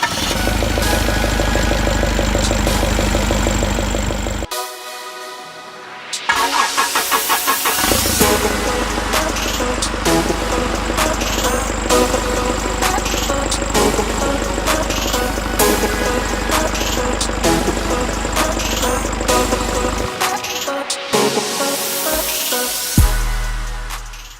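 A Nissan ZD30 diesel engine cranks and runs during an injector test, loud and close with a steady rough idle, cutting out briefly twice before restarting.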